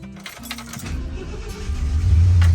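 A classic car engine cranks and catches, a few uneven mechanical clicks and rattles building into a low, rumbling idle that grows louder and steadier at close range.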